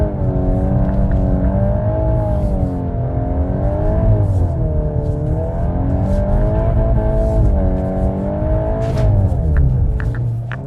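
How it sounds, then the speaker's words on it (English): VW Golf R engine revving hard on a track during drifting, a loud continuous snarl with rising and falling pitch as the throttle is worked through slides, close and alone with no talk. "This is the thing that you need to hear to get into drifting."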